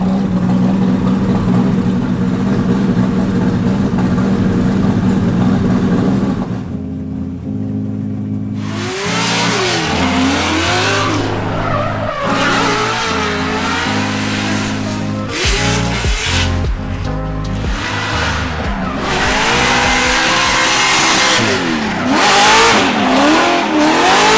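A 1000HP 2JZ-swapped BMW E36 on nitrous accelerates hard, the engine roaring loud and close through rising revs with brief lifts between pulls, and tire squeal mixed into the sustained blare.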